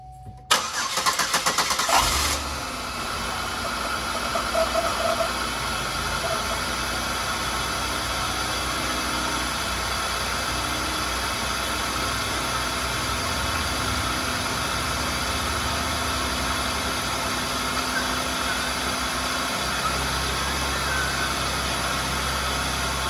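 GM 3800 V6 car engine cranking and catching with a short loud burst, then settling into a steady, even idle that runs on for about twenty seconds, close and with no talk.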